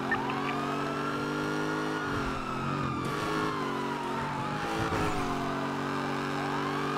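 Car engine in a police video game as the vehicle drives along a road, a steady droning hum with rising and falling revs and a brief rough patch midway, loud and continuous, with no talk.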